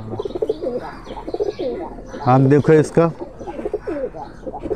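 Kuwaiti teddy pigeons coo close by in a short rising-and-falling run that stands out in the middle, with softer calls around it while someone talks.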